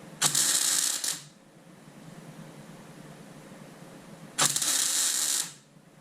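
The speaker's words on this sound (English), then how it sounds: "Just weld a little hole up here." A welder fills a small hole in the mudguard of a Fordson Major E1A tractor in two short crackling bursts, each about a second long, separated by a quiet pause with a faint background hum.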